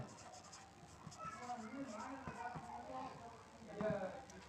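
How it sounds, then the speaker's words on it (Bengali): A pen scratches out short strokes of handwriting, faint and close, with a quiet voice murmuring underneath. "তাহলে এখানে আমরা লিখব"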